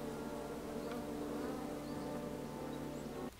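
Steady, droning buzz of a swarm of bees in the video game King's Quest (2015), continuous and fairly loud, cutting off abruptly near the end.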